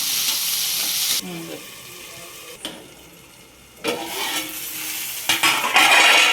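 Onion and green chillies sizzle and fry in a hot pan with mustard seeds, a steady loud crackle broken by a few stirring scrapes and quieter pauses.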